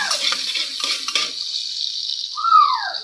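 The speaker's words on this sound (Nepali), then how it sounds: "प्याज फ्राई गर्नलाई प्याज काटिङ गरेर हाल्दिएको छु" Chopped onions frying in oil in a pan, a steady high hiss of sizzling with a few stirring scrapes early on and a brief squeak near the end.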